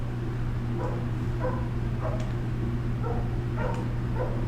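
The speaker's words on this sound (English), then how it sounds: "If you can hear my dog barking in the background" A dog barks in the background, several muffled yips and barks spaced irregularly over a steady low indoor hum.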